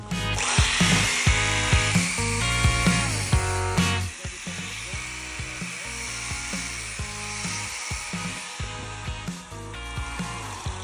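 A power tool grinds and rounds the corner edges of a metal bracket for a metal frame, giving a steady, loud whirring hum with small shifts in pitch and load throughout.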